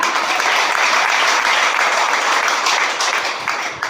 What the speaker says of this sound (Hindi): ज्ञान में जरा हो जाए जोरदार तालियां